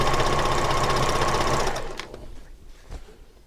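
A sewing machine stitches through many layers of a gathered pillow sham, running in a steady, loud mechanical whir for about a second and a half before stopping, followed by faint handling sounds.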